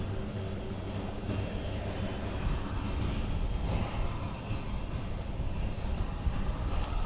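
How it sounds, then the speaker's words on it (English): Delta and Air France jet airliners at Princess Juliana Airport, St. Maarten, one taxiing and one pushing back, give a steady, continuous engine roar and rumble at moderate distance, with no talk. "Delta is taxiing, whilst Air France is pushing back."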